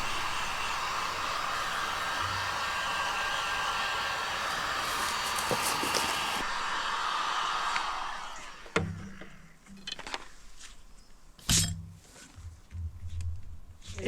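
A heat gun or dryer blows a steady, loud whooshing hiss while heat-shrink foam handlebar grips are shrunk, then cuts off after about eight seconds, leaving a few handling knocks and clatters.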